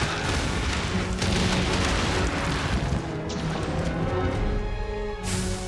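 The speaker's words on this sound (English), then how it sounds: "this Bishaten throws exploding pine cones" Exploding pine cones thrown by a Bishaten monster in Monster Hunter Rise burst in a dense, continuous barrage of loud booms and crashes, with layered game sound effects filling the whole stretch.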